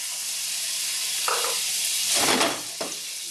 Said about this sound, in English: I'm just going to let this saute for about 4 minutes